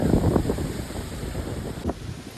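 Strong wind sweeps a seashore beside farmland near Alibag, rumbling and buffeting the microphone continuously, with faint surf noise beneath and a brief gust bump near the end.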